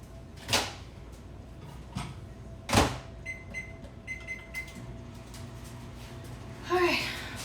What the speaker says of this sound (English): All right, microwave.